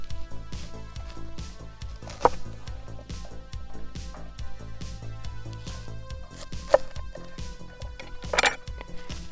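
Large whole garlic heads are cut in half with a knife on a board, giving a quick, regular series of close, soft chopping taps with a few sharper knocks between, with no talk.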